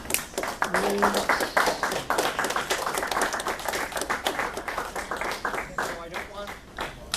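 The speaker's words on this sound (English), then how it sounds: "So let's applaud ourselves" An audience at a video game summit presentation claps together, with a dense, continuous patter of many hands filling the whole stretch and a voice briefly audible underneath.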